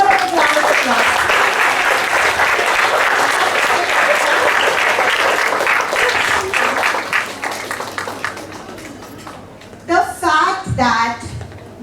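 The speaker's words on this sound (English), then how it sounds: "Give her a big round of applause." Award ceremony audience clapping loudly and continuously for several seconds before it fades out, followed by a voice speaking over a quieter room.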